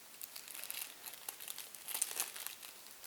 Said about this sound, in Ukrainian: Я зазвичай по-дивному розриваю ці пакети, не використовую стрічку.